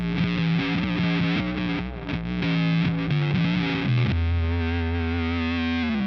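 Electric guitar through a Big Muff fuzz pedal with an octave sub voice, thick distorted sustained notes and bends, with a deep low octave swelling up strongly in the final held note.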